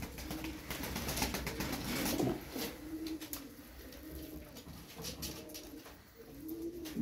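Pigeons coo repeatedly in a rolling, rhythmic pattern at close range, several soft calls overlapping across the stretch with no talk over them.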